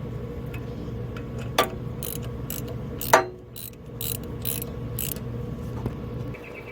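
A ratchet wrench tightens the harmonic balancer bolt on a 1998–2002 Toyota Corolla, with quick bursts of clicking and two sharper metallic knocks, close by, with no talking.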